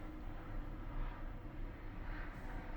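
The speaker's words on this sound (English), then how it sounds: "That plane is flying awfully low." A low-flying airplane passing overhead, a steady deep engine rumble and drone that swells slightly and holds at moderate, distant-sounding loudness with no voices.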